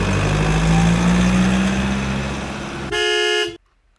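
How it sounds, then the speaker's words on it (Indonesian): Logging truck: a loud, steady engine roar builds up close by, then ends in a short, blaring blast of the horn before everything cuts to silence. "Logging truck."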